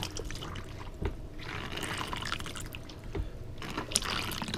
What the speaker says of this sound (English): you need to pump a few times to get water into the system